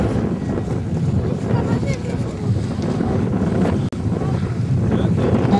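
Strong, steady wind roars and buffets the microphone at an outdoor RC model air show, with water and boat noise mixed in beneath.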